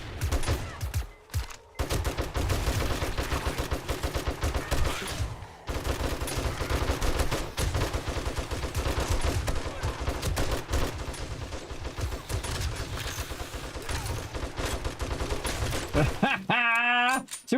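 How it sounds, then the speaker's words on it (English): Sustained automatic gunfire in the zombie survival game 7 Days to Die, aimed at a bomber zombie: dense, loud, rapid bursts that run almost without pause, with one brief break and a mechanical whir at the end. "Shoot that bomber."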